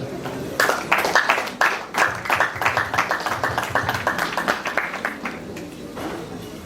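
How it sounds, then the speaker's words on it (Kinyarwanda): A crowd at a wedding engagement and dowry ceremony claps in a steady, rhythmic pattern, many hands beating together at close range and then fading out. "Urakoze cyane niba kumpere amashyi"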